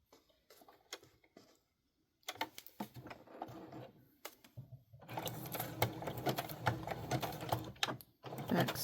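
A sewing machine back-stitches on a Christmas candy box junk journal in short rapid bursts with brief pauses, then runs continuously and louder for the last few seconds, close to the listener.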